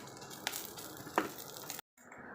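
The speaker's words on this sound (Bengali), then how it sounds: "এইগুলো দেখো একটু কড়া কড়া করে ভাজি" Prawns fry until crisp in a pan for a pointed-gourd curry, giving a steady, soft close sizzle with a couple of stirring clicks that briefly cuts out near the end.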